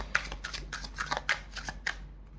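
Tarot cards being shuffled and drawn by hand, a run of quick papery riffles and slaps in an uneven rhythm, close and fairly quiet, with no speech.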